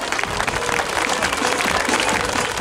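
A crowd at a fun run in Champcueil applauds the participants with dense, steady clapping throughout, fairly loud and unbroken.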